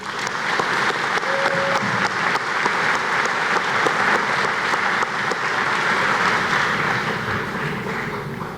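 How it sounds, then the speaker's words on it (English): A large audience at a high school commencement applauds school staff with steady, dense clapping that fills the whole stretch at an even loudness and tapers slightly at the end. "Let's give them a round of applause, please."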